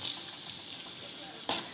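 Vegetables hiss gently in a pan for masala bhaji, a steady soft sizzle with a brief scrape of stirring near the end, fairly quiet and close.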